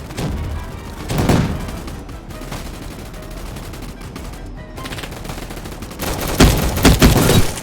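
Rapid bursts of video game shooter gunfire crackle in two loud clusters, one near the start and a heavier, sustained volley at the end, with a steady noisy background between them.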